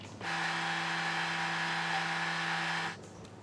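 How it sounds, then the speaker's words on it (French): A kitchen blender runs steadily for about three seconds, puréeing blanched pea pods, with a loud, even whir that starts and stops abruptly. "je vais blanchir des écorces de petits pois et je vais mettre dans un bol de mixeur"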